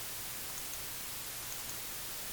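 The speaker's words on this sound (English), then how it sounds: "I can set it to flat, and this is white noise" Steady flat white noise plays through an audio plugin, a constant even hiss with no slope, alone and unchanging throughout.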